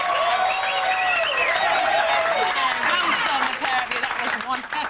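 A studio audience at a Sport Relief 2008 charity dance contest cheers and applauds, with sustained loud clapping and whooping voices forming a dense, close wall of crowd noise that thins toward the end.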